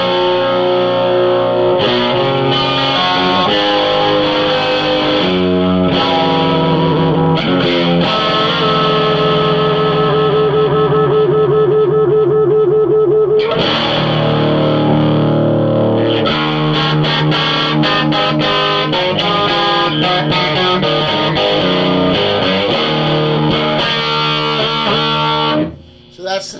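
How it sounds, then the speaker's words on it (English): Electric guitar played straight into a Granger M200 200-watt amp with the master volume on 10, giving a loud, dense, distorted tone that sustains almost unbroken for nearly half a minute, with shifting chords and brief pauses. "That's the sound of the amp just by itself with the guitar plugged right into it."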